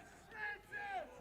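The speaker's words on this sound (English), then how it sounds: "Listen to the crowd. They're ready to go." A hockey arena crowd at a UConn Huskies versus Bears game cheers and shouts in two brief surging swells, distant and faint with voices mixed in.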